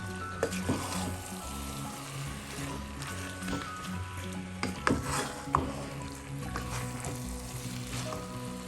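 Chicken with chicken masala sizzles in a frying pan for a home-style Kerala chilli chicken curry, with soft steady frying and occasional scrapes and knocks of a spoon as it is stirred.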